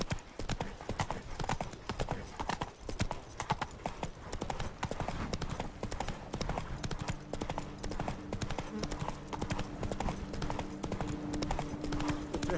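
The horse Roach gallops in The Witcher 3: Blood and Wine, with fast, steady hoofbeats pounding close and continuously for the whole stretch over a low ambient game background.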